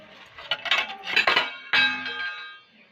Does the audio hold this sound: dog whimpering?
no